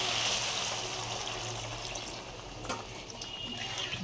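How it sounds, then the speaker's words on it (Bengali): Water poured from a vessel into simmering fish curry masala for a spicy tangra fish dish, a steady thin trickle that runs on without a break at low level, with no voices. "এবার আমি দিয়ে দেবো পরিমাণ মতন জল।"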